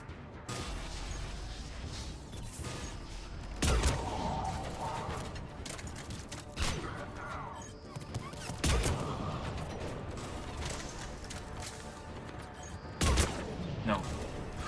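Gunfire in the video game Mass Effect 3, with sharp shots rising out of a dense, steady battle din and a voice speaking over the fighting.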